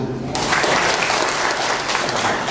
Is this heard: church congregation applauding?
yes